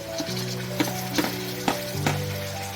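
Cut cucumber and tomato sizzle and fry in a pan while being stirred, a steady frying hiss broken by a few sharp scraping strokes of the spoon, close and moderately loud with no talking.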